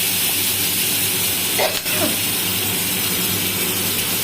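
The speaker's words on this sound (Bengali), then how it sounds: "কাঁচা লঙ্কাগুলো দিয়ে একটু হালকা নাড়াচাড়া করেই আমি টমেটোগুলো দিয়ে দিলাম।" Tomatoes drop into hot oil with onion, garlic and green chillies, giving a constant close hiss of frying with one brief louder burst near the middle, with no voices.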